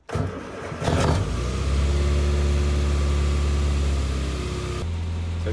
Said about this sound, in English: I'm going to start the engine.